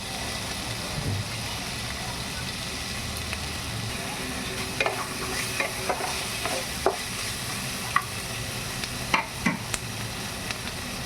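Semolina upma with salt, green chillies and tomatoes fries and is stirred in a pan, giving a steady low sizzle throughout with scattered scraping clinks of the spoon against the pan.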